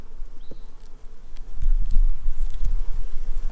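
Honeybees buzz around an opened hive during an inspection, a close, fluctuating drone that swells and grows louder partway through, with insects passing near.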